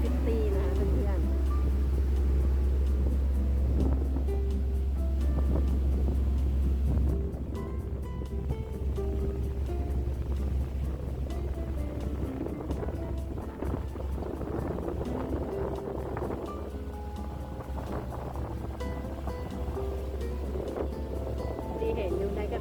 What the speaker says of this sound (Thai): ตอนนี้เรือก็เริ่มออกจากท่าเรือนอตพอยต์แล้วนะคะ